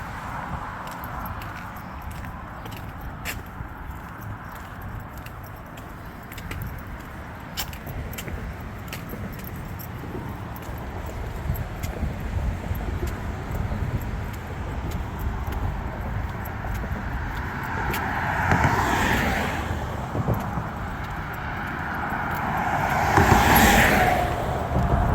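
Road traffic rolls across a long bridge over the New River, heard from the walkway as a steady rumble with vehicles swelling louder as they pass near, while keys or gear jingle close by throughout.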